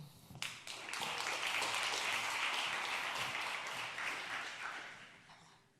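An audience breaks into sustained applause to welcome a speaker at a restorative justice event, with dense, steady clapping that swells quickly and then tapers off near the end.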